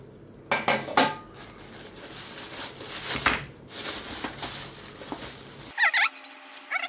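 The metal stand of a SUN Power Range TY-101 portable butane gas stove is handled during unboxing, giving several close clanks and metallic knocks among rustling, with one sharp rattle near the end.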